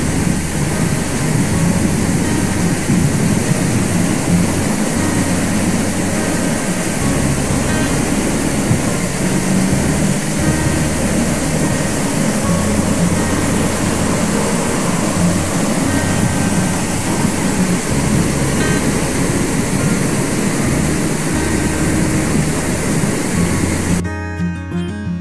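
Loud, continuous river water rushing under a bridge in Nikko National Park, Japan, roars steadily throughout, a broad white-noise torrent with a low rumble underneath, close and unbroken.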